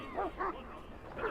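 A Mabari warhound in the video game Dragon Age Origins gives three short, close barks with whimpering yips, evenly spaced over a low background hum.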